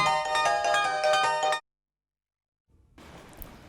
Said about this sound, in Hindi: सर का फोन बज रहा है